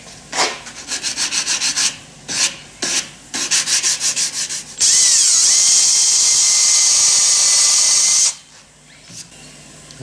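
Rapid back-and-forth rasping strokes in quick bursts, then a long, loud high-pitched whine of a power drill drilling holes before stopping abruptly.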